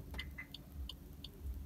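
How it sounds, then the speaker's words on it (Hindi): Locking a Maruti Suzuki Ertiga CNG with its remote key sets off brief, high-pitched electronic chirps from the car, close and modest in level over a low steady rumble. "अगर मैं इसको लॉक करता हूँ तो आपको एक बार आवाज़ देखने को मिलेगा"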